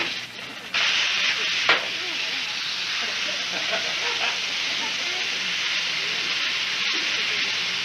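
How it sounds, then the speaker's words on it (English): A steady, loud hiss and sizzle of chicken frying in hot fat under pressure, continuous throughout, with a faint knock near the start. "that chicken's completely submerged in hot fat."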